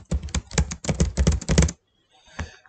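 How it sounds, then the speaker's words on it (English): Random letters tapped out on a computer keyboard in quick, clustered bursts of keystrokes, then a short pause and one final tap. "I'm just going to type some random letters"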